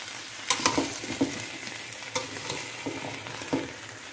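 Oriental-style vegetables and sausages sizzle and brown in a pan, with soft steady frying and several scrapes and knocks of a utensil stirring them.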